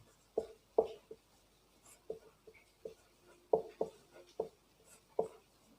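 Chalk or marker tapping and scratching on a board while writing out a class 9 triangle math lesson, a series of sharp, close strokes and knocks with quiet gaps, no talking.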